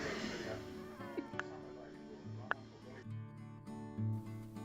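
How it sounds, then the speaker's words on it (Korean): A drowsy cat gives several short, close meows in reply to a person repeatedly calling to it, the mews mixed in with the human voice against a quiet indoor background. "주인의 목소리에 계속 대답하는 고양이"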